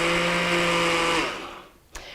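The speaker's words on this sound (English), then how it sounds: "So we're just going to blend this for a little while." A countertop blender runs on its second speed setting, mixing poppyseed dressing with a loud, steady whir for just over a second before winding down, followed by a short knock.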